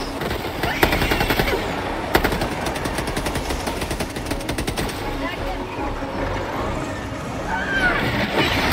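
Rapid automatic gunfire in the video game Helldivers 2 crackles in long dense bursts, loud and close, with a mechanical hum beneath and someone talking over the shooting.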